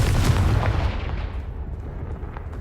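Confringo fire spell blasting apart a pile of rubble blocking a stairwell in the Hogwarts Legacy video game: a loud, dense booming burst at the start that rolls and decays into a rumbling tail, with no talk.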